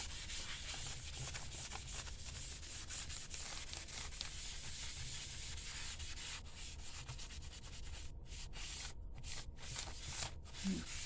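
Steady, close scratchy rubbing as beet juice dye is worked into junk journal paper, continuous strokes with a few brief pauses near the end.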